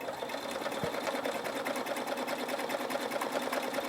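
Husqvarna Viking Topaz 40 sewing machine running steadily while sewing a tapering appliqué satin stitch, a close, even, rapid mechanical hum with a regular stitching pulse throughout.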